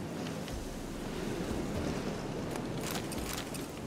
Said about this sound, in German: Der Wind heult.